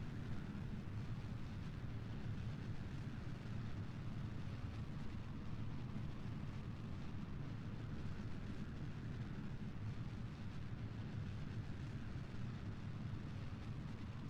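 A steady, ominous, wind-like engine whistle and roar from a rocket in Kerbal Space Program, a continuous unbroken drone held at an even, moderate level with no voices over it.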